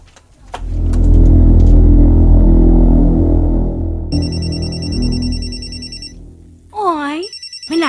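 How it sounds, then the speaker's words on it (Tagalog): A cellphone rings with a repeated electronic ringtone pattern, fairly loud, following a low rumbling engine-like noise, with a brief voice sound near the end. "Tunay na nawag sa akong cellphone."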